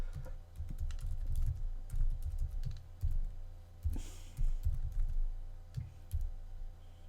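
Close keystrokes on a computer keyboard come in uneven bursts of typing with short pauses, loud and crisp, with no talking.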